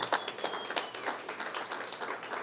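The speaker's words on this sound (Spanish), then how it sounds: "Dele un aplauso a Dios si lo cree." A church congregation at a Spanish-language service applauding together, with dense, even clapping from many people that stays steady and fairly close throughout.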